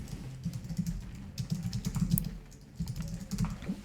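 Fingers tap out text on a computer keyboard in quick, uneven bursts of soft clicks, close by, with a short pause partway through.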